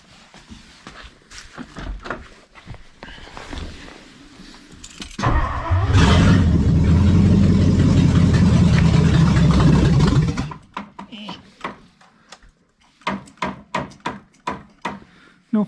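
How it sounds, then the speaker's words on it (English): A 1960 Lincoln Premier engine with a sticking throttle catches and runs at a loud, steady high idle for about five seconds, then cuts out, framed before and after by clattering handling noises and footsteps nearby. "Idle seems pretty high."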